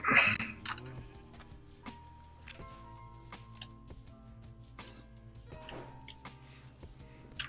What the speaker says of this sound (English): Magnum, your typing is a little loud through Discord